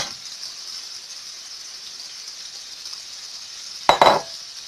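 Onion goes into a hot frying pan: a steady hiss of oil, then a sudden loud sizzling burst near the end as the onion hits.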